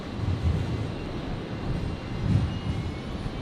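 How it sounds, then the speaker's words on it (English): An Air New Zealand Airbus A320neo at Brisbane Airport, bound for Christchurch, gives off a steady low jet engine roar. It sounds fairly distant and swells gently, with no voices. "that's New Zealand 206. Which is 320 Neo, which is heading back to Christchurch."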